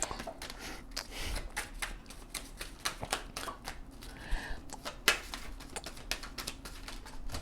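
Tarot cards are shuffled by hand with a cat on the lap, giving quiet, rapid riffling clicks and soft flutters in uneven bursts, close and faint.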